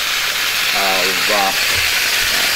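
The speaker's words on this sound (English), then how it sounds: "I'll turn the water on one more time" Water jets from a hose onto a snow-covered apartment roof, steaming off built-up snow, as a loud, steady broadband hiss and rush filling the clip, with a voice briefly audible over it.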